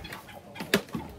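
Newly arrived purebred laying hens, White Kelso and Goldenboy Sweater, give a couple of short clucks close by over a steady background hiss, with a brief louder call near the end.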